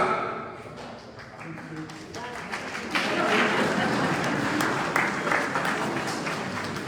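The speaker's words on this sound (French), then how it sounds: "applaudissez pour qu'on sache que vous êtes là" Children clap inside a church during a Sunday Mass, with scattered patter building into steady applause from the room that lasts several seconds, while a voice talks.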